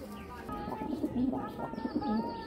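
Racing club pigeons, foreign bloodline stock, coo in low warbling bursts close by, mixed with some chirping and a person talking over them.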